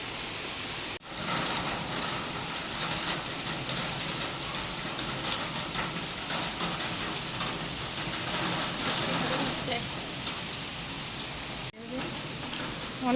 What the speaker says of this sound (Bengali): ঝিরিঝিরি খালি দুই এক ফোঁটা বৃষ্টি।